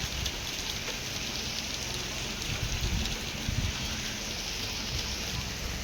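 Steady late-season rain falls outdoors near a house under construction, a continuous soft patter with dense drops and no voices.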